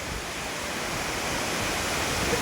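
Waterfall in the Kolli Hills pouring heavily, a steady broadband roar of rushing water that holds constant and close throughout, with no voices.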